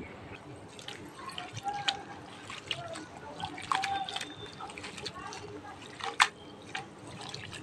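Cut leafy greens being rinsed with water, giving soft drips and trickles with scattered splashes at close range, under light background noise.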